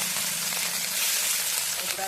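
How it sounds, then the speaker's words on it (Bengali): Rohu fish frying in hot oil in a wok, a steady dense sizzle that fills the whole clip, close and loud, with no clear talk. "আগে এই মাছটা ভেজে নেবো।"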